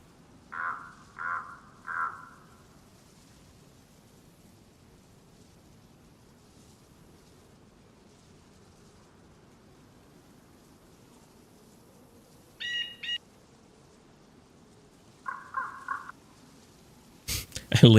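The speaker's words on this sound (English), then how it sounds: "I lean to the right, I hear birds." Crows caw in DayZ, giving three quick calls near the start and a couple more later, with faint higher bird chirps in between, over a quiet low ambient hum.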